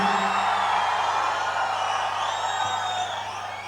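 An audience at a Telugu film audio launch screams and cheers continuously, a dense wash of crowd noise over a low steady hum that eases slightly toward the end.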